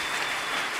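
A church congregation bursts into dense, continuous applause to acclaim the Lord, a brief, even wash of many clapping hands.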